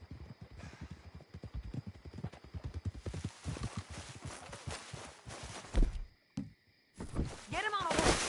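Hoofbeats of a horse in Red Dead Redemption, a steady clip-clop of walking hooves that grows busier and louder, broken by a few gaps and sharper knocks near the end, with voices speaking over it at times.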